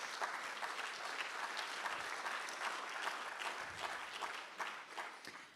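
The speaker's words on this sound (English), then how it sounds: "Please clap as he comes." Steady audience applause at a conference evening session greets an award recipient walking to the front, a dense, continuous crowd clapping heard from a distance at low level.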